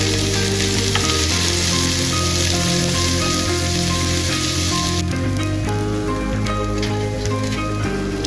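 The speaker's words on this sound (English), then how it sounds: "Heat that saucepan and saute the onions, then add garlic." Onions and garlic sautéing in a hot saucepan give a loud, dense, continuous sizzle and crackle, close up, with faint stirring and steady humming tones underneath, and no one speaking.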